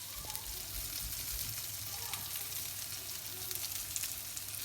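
Gobi aloo potatoes sizzle softly in olive oil in a pan while being stirred, a steady low hiss with faint occasional scrapes, quiet and even throughout.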